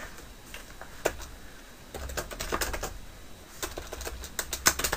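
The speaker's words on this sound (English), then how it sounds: "So I'm going to type in WordPress comments disable" Rapid typing on a computer keyboard while entering a search phrase for a WordPress plugin, with irregular bursts of crisp key clicks and occasional louder keystrokes, close and alone.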